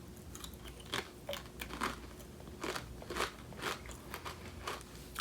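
Miss Vickies Sweet and Spicy Ketchup potato chips crunch in a series of crisp, close bites and chews, spaced irregularly over quiet background, with no voices.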